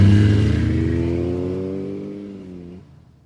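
A truck engine drives off and fades into the distance, starting loud with a falling pitch and trailing away to near silence after about three seconds.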